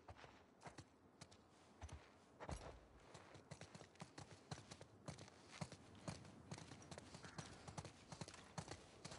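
Horse hooves clip-clop at a steady walking rhythm in The Last of Us Part II on PS4, with close, repeated hoof strikes over a faint background and an occasional snort or whinny.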